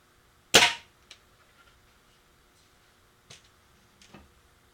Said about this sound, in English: Benjamin Genesis 22 caliber.